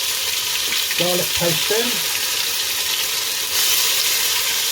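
Panch phoron spices cooking in hot oil give off a loud, continuous sizzle; someone briefly speaks over it, and the frying surges louder near the end as garlic paste goes in.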